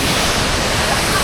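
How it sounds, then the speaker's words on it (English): A large waterfall at Doi Inthanon, Thailand, roars as a loud, constant rush of falling water, close and unbroken. "Now this is a waterfall."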